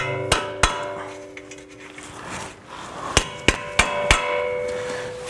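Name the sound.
tapping out a stuck strut bolt on 2012 Subaru Forester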